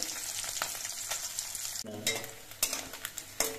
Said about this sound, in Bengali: মাছটা কিন্তু একটু কড়া করে ভেজে নিতে হবে।